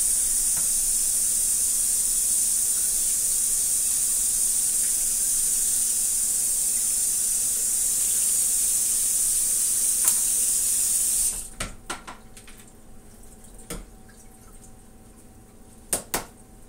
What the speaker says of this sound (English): I'm going to rinse these quick